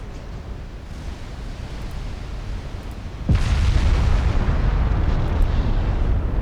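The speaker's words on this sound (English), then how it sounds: "Big explosion" A big explosion in a naval warfare video game, a sudden heavy boom that hits midway through and leaves a loud, sustained rumbling roar over a steady background wash, with no talking.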